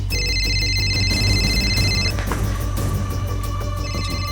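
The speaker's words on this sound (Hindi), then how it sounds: "आखिरकार फोन की घंटी फिर से बजी।" A telephone bell rings loudly and continuously with a bright, sustained electronic tone that shifts pitch midway, with no voices present.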